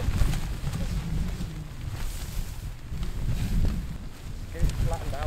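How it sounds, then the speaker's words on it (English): Strong wind gusts across a rainy campsite, a loud, rough buffeting rush with flapping tent fabric, close to the microphone, while someone talks over it. "Wind's picking up."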